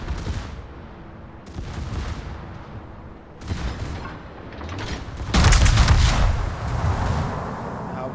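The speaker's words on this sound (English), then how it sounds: "concentrate fire on the target." Ship guns firing in the naval combat game World of Warships during a ranked battle: loud booming salvos and rumbling blasts in overlapping waves, growing heavier toward the end, with no voices.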